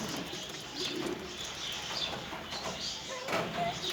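Bango pigeons cooing inside a coop, soft repeated coos under steady ambient noise and faint background chatter, moderately close and low in level throughout.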